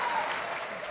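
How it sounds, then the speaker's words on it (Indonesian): A talk-show studio audience gives a brief, faint patter of applause that fades quickly within a second. "tepuk tangan untuk Reda"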